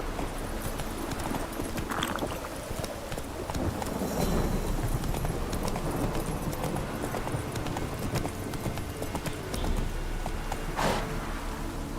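Roach the horse from The Witcher 3 walks with steady, close clip-clopping hooves, a continuous rhythmic patter over faint ambient background and no talking.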